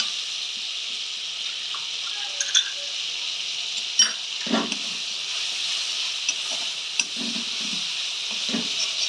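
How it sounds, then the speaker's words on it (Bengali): Spice paste frying with ginger in a pan, a constant bright sizzle under scattered spoon scrapes and light clinks as it is stirred, no talking. "এইবার আমি এর মধ্যে পেস্টটা দিয়ে দিলাম, দিয়ে ভালো করে মশলাটাকে এবার কষাতে হবে।"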